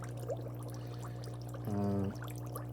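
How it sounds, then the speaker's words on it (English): H&B Luxuries portable foot spa massager running with water in its basin, a steady low motor hum with a brief louder bubbling, pouring swell near the end, close and alone. "So here's the spa unit in operation"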